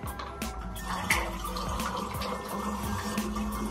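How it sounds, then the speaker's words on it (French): Water runs steadily into a hookah base, a continuous close splashing and trickling stream with faint drips, no voices over it. "Je vais rajouter de l'eau."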